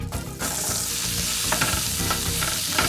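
Chopped onions sizzle loudly in a brisket tray, a steady dense crackle of frying with a few stirring scrapes and no voices.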